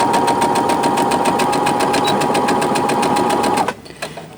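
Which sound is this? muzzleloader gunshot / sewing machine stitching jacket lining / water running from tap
sewing machine stitching jacket lining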